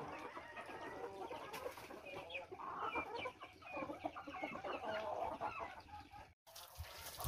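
Backyard chickens on a small farm that also keeps pigs cluck softly and repeatedly at a distance, with scattered short calls over quiet outdoor background.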